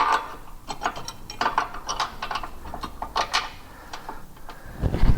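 A hand ratchet clicks in quick repeated bursts as it loosens bolts on a rear differential brace for an INFINITI Q50/Q60, close and fairly quiet with no talk.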